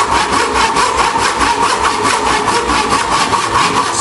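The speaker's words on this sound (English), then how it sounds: "Start sawing on an angle." Steady, rhythmic strokes of a hand saw cut through wood for a mortise and tenon joint, each pass a loud, close rasp repeating evenly without any talking.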